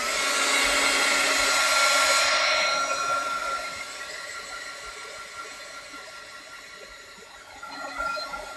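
A hair dryer blows loud and close over a watercolor painting, dropping to a lower, softer whir after a few seconds and running steadily to the end.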